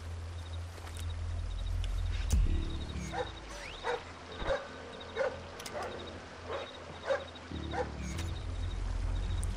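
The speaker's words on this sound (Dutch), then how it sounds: "Die hond komt achter mij aan" In the stealth video game Splinter Cell Blacklist, a guard dog in a villa barks in a series of short sharp bursts over a low rumbling background, moderately close and repeating at irregular intervals.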